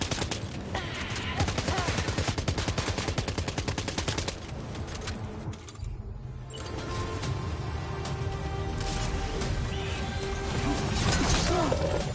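Dense, loud gunfire in the video game Death Stranding 2, rapid bursts of automatic shots with crashing impacts and mechanical clatter, continuous for the whole stretch with a brief lull midway.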